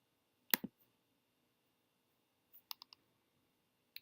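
Computer mouse clicks, close and crisp: one sharp double click, then after a pause a quick cluster of three light clicks and a final single click, with near silence between them.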